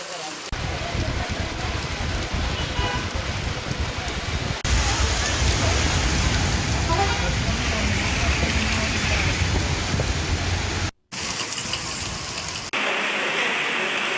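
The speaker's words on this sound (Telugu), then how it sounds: "హైదరాబాద్ పాత బస్తీలో ఏకధాటిగా వర్షం కురుస్తోంది." Heavy rain pours down steadily over Hyderabad's old city streets, a dense continuous hiss of drops on surfaces with brief cuts and shifts in loudness.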